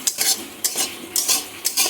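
Bottle gourd leaves being stirred in a pan with a touch of salt, a spoon scraping in quick bursts roughly every half second, close and fairly loud with no voices.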